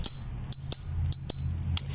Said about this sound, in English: The integrated bell is a nice touch.